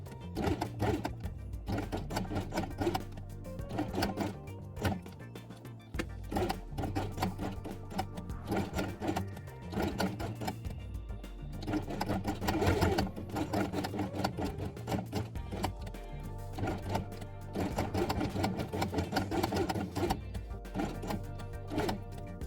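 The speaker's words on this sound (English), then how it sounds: "Then sew both elements along the inside edge with pink thread." A sewing machine stitches quiet book fabric elements with pink thread, a close, continuous rattling hum with slight surges and brief slowdowns.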